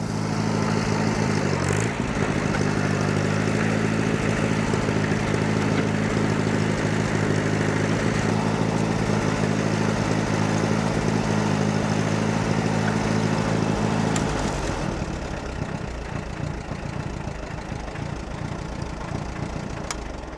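Allis-Chalmers C tractor engine running steadily at idle, a loud continuous low throbbing drone close by, with a brief change in pitch early on before it settles back to a constant idle.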